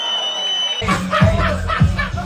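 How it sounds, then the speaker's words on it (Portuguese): Crowd at a rap battle erupts in loud cheering and chatter, close and dense after a brief quiet opening, with shouts rising over the noise. "Palmas e barulho pra essa batalha!"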